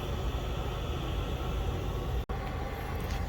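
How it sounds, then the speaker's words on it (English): A diesel air heater's fan spins up to a higher speed, giving a steady, even broadband whoosh of moving air that runs close and constant throughout, with one brief dropout near the end. "so now the fan is actually ramped up in speed, and it is already putting out warm air"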